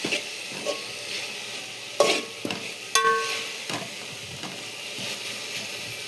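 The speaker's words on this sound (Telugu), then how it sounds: "ఈ గోంగూరని ఆయిల్లో ఇలా బాగా మగ్గించుకోవాలి." Washed gongura leaves cook in hot oil in a pan, hissing with a continuous sizzle under repeated stirring scrapes and a couple of sharper knocks of the spoon. No one speaks.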